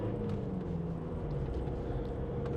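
A 2021 Ford Transit Custom 2.0 EcoBlue 340 diesel van engine drones low and steady while pulling up a hill, a constant deep rumble heard from inside the cab.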